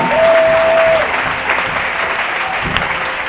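Steady, dense applause from a congregation at an evangelical service in Côte d'Ivoire, loud and continuous throughout, with a faint sustained tone briefly at the start.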